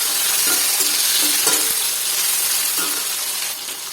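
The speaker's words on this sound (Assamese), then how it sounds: "বিলাহীখিনি দি অলপ সময় ভালকৈ ভাজিম" Tomatoes fry in hot oil in a pan while making kosu sak, Assamese taro leaves with pepper. A loud, steady close sizzle runs throughout, with scraping stirring strokes and no voices.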